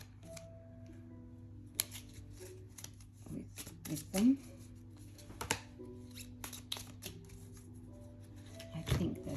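A tarot card deck being shuffled close by, with soft, irregular riffling and tapping under quiet steady background hum, while a person speaks briefly.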